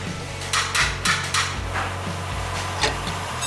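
Hammer striking a loose leaf spring shackle on a vehicle suspension, several sharp metallic taps spaced unevenly, close and fairly loud over a low steady hum.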